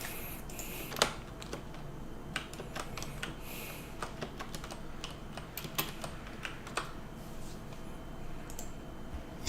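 Steady typing on a computer keyboard during an online staff meeting, a continuous close patter of soft key clicks with occasional sharper taps, heard alone without talk for about ten seconds.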